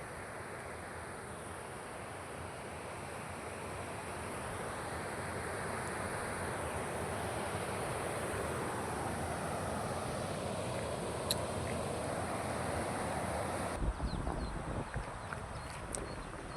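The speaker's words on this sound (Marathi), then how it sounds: "हा माझ्या गावचा ओढा आहे पाण्याने फुल भरून वाहत आहे" Water rushes steadily in a continuous broadband roar from a village stream flowing full, nearby, with no voices and little variation.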